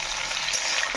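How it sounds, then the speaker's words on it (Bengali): Potatoes and prawns, added without salt or turmeric, frying in a pan, with a continuous bright sizzle and hiss close up and slight stirring movement underneath. "একটু ভেজে নেব।"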